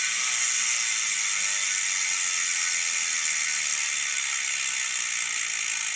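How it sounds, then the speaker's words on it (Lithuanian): A Zipp XPLR SW bicycle wheel freewheels, its hub ratchet giving off a rapid, even, muted buzz of clicks that holds steady and close throughout, with nothing else heard. "Visiems, aišku, svarbu, kaip skamba terkšlė."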